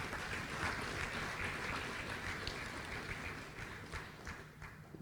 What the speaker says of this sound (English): Another round of applause for him, please.